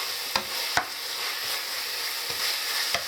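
A spoon stirs an herb mix in a hot cooking pan, giving a steady sizzle with a few sharp scraping knocks against the pan, close and alone without talk.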